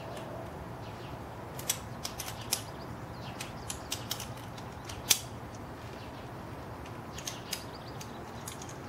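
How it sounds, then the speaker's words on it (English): A wrench tightening a hanging rope bracket, giving a series of small sharp metallic ratcheting clicks and creaks spaced irregularly over a steady low background hum, close and alone. "Tighten with wrench."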